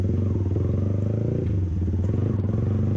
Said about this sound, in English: this machine is loaded with a full system exhaust of SC Project. It's too loud.